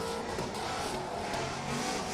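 Nissan S14 drift car with a swapped 2JZ engine at a drift competition, its engine roaring loud and steady throughout amid a broad wash of motor and tyre noise, with no clear pauses.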